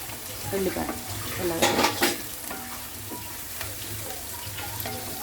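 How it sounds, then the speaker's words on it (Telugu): Ginger garlic paste and chopped onion fry in a pan with a steady close sizzle, stirred now and then with a few scraping clinks and a brief louder burst near the middle. "ఇలా ఫ్రై చేసుకొని బాగా ఫ్రై అవ్వాలన్నమాట, పచ్చివాసన పోయినంత వరకు"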